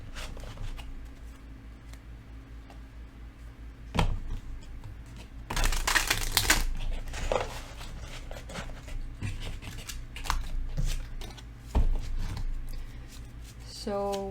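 Tarot cards shuffled by hand in bursts of papery riffling and rubbing, loudest in a dense flurry near the middle, with a voice talking softly around the shuffles.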